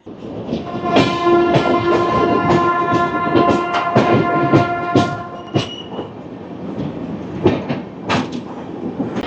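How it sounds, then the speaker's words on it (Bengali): The Howrah–New Delhi Rajdhani Express pulls into Gaya Junction, steel wheels squealing in long high tones over clattering rolling noise and rhythmic knocks, loud and close throughout. "আমরা এখন গয়া জংশন প্রবেশ করছি"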